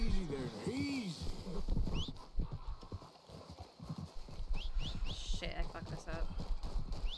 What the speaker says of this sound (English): Now this horse is like after me.